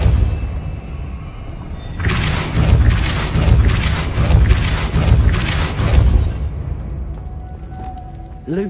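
A Depulso spell cast in the video game Hogwarts Legacy, a loud booming blast with a rumbling, crackling burst lasting about four seconds before dying away to quieter background sound.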